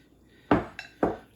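Sliced zucchini dumped into a pie plate coated with avocado oil, giving two sharp close clattering knocks with a light clink between them.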